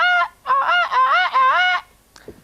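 A human voice imitates a seagull call: a short cry, then a longer run of warbling, nasal squawks in quick succession, close and loud, ending with a faint rustle.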